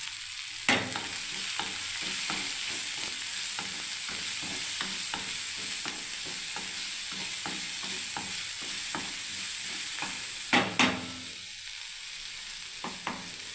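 Spices with chili powder and ginger fry in hot oil in a pan, a constant sizzle with repeated scraping stirs of a spatula at a regular pace, close and moderately loud.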